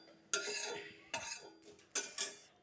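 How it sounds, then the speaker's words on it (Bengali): Fried spices ground on a stone grinding slab, four separate scraping, grating strokes of the stone with short pauses between them, close but fairly quiet. "এটা পিষে নিব, পাটাতে পিষে নিব"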